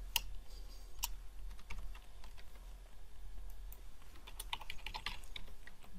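Keys tap quickly on a computer keyboard as numbers are entered into form fields, a light, irregular clicking over a constant low room hum and background noise, with no talking.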